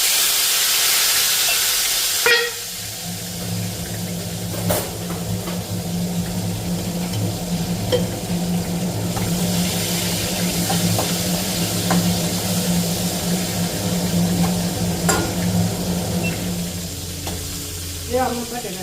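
Tomato dropped into hot oil in a pan with red chilli sets off a loud burst of hiss, then settles into a steady close sizzle with a low hum beneath and occasional utensil clicks.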